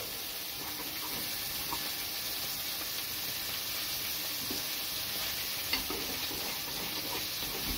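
Fish cooks in a pan sauce as white wine is added, giving a steady, bright, close sizzle and hiss with faint stirring clicks throughout and no voices.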